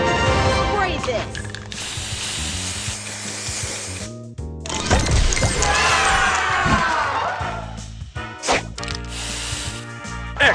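Booster spray effect from the mobile game Seadogs Scallywags, with dense mechanical whirring and hissing spray bursts layered over busy, tonal game music. The effects come in several loud, clattering waves separated by short gaps.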